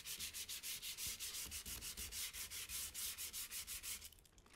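Rhythmic back-and-forth sanding scuffs the old finish on a wooden chair, steady close strokes repeating about four times a second before stopping near the end.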